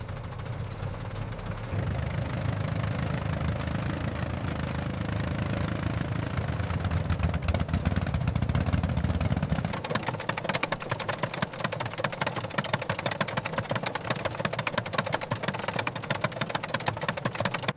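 A restored 1903 Oldsmobile Model R Curved Dash runs steadily with a loud, continuous low chugging engine note, pulling harder and deeper for the first ten seconds before settling into a rougher, rattly running rhythm.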